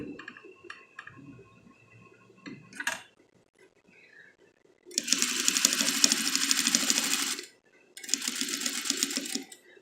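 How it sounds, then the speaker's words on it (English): A sewing machine stitching along a marked line on fabric for a single welt pocket: two steady, close runs of rapid whirring stitches separated by a pause, after quieter handling clicks and shuffling. "So I'm going to sew right on that line."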